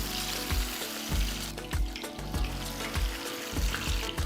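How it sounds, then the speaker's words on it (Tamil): A chickpea kebab patty shallow-fries in oil, a dense continuous sizzle with rhythmic low thuds and scrapes recurring about every second, loud and close with no voices. "மட்டன் கலவை கொஞ்சம் எடுத்து ஃப்ளாட்டாக தட்டி மெதுவாக எண்ணெயில் போடுங்க"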